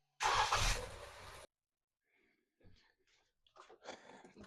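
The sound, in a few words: 2024 Toyota Camry engine starting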